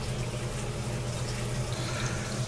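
Fresh water runs steadily into a saltwater system tank, a continuous low rushing fill sound with no pauses, fairly quiet and close.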